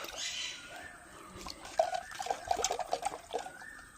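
Water bubbles and gurgles as it boils in a clay pot, with a quick run of small pops and plops coming close together.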